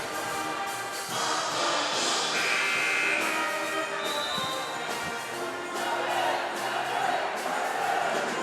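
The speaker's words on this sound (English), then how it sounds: "I had to give you a little of the crowd doing that." Basketball crowd in a gym singing along to a song during a college game, a dense, loud wash of massed voices chanting continuously throughout.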